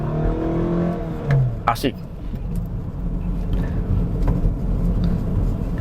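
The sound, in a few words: 2005 Toyota Camry sedan accelerating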